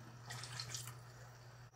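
Water poured into a pot of chicken adobo with cabbage in a home kitchen, a brief soft splashing pour that stops after about a second, faint over a low steady hum.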